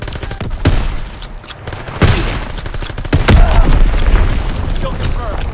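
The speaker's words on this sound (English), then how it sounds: "Enemy bomb incoming." Enemy bombs burst in a WW2 shooter game: several heavy booms mix with crackling gunfire, sharp blasts landing near 0.6, 2 and 3.3 seconds over dense continuous battle noise.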